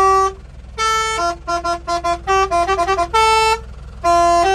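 A truck air horn driven by a Basuri-style melodic horn module blares a loud, close, tuned tooting tune with several long and short notes in a rhythmic pattern.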